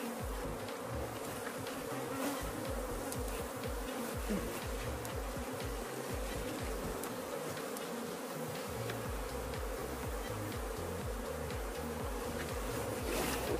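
Honey bees buzz loudly and steadily at an open hive being divided, a dense, continuous swarm hum with no break.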